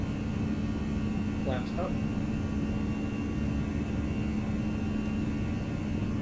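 ToLiss A319 jet engines at climb thrust in X-Plane 11 drone as a steady, even roar under a crew member's brief spoken callout.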